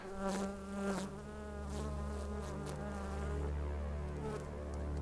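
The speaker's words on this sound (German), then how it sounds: "da haben wir wieder unsere schönen Bienen" Bees buzz in the video game Dead Rising 3, a steady, close insect drone with layered wing tones holding throughout, with a couple of brief louder swells near the start and no talk.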